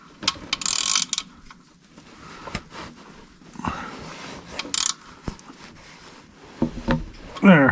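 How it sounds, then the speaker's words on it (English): A hand ratchet tightens bolts during an oil change on a Kioti CK2610 tractor, with short bursts of rapid clicking separated by pauses, close up and fairly loud, plus a few metallic knocks. "And we'll go ahead and tighten up both of them."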